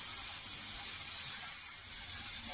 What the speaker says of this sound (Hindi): हमारा ये तड़का भुन चुका है बहुत अच्छी तरह से।